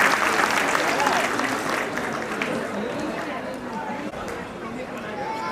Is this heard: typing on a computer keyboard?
no